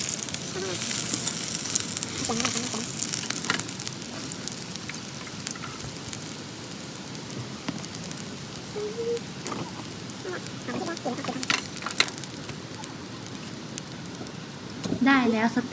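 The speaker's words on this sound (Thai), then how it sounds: "ลาดไปเรื่อยๆจน เนยที่ละลายเริ่มแห้ง กลับด้านสเต็กแล้วทำเหมือนเดิมอีกรอบ" Steak fries in melted butter in a pan, giving a continuous crackling sizzle with scattered pops and spits, while someone talks over it.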